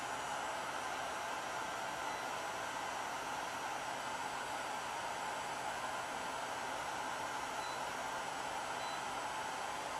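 A hair dryer runs steadily throughout, a constant broadband whoosh with a faint motor hum, close and unchanging.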